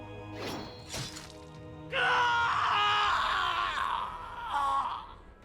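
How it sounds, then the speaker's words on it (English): Agonized scream from the video game Hakuoki: Edo Blossoms, a long shrill desperate cry lasting several seconds after a couple of short thumps, loud and close. "let out an ear-splitting scream, a shrill, desperate cry of agony that shook me to my core"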